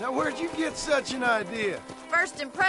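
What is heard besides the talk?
No everyday noise stands out behind the speech.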